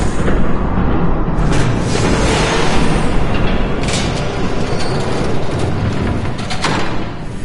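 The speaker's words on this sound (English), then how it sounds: "There's a train coming." Approaching train in the Telltale Batman video game, a dense, steady mechanical rumble with booming clanks and metallic bursts sustained loudly throughout, no voices.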